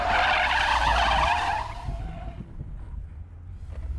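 A car drifting with a second-gear pendulum turn and a bit of handbrake: a loud, sustained tire squeal and skid for about a second and a half, then it cuts off, leaving a low engine rumble and faint ambient noise.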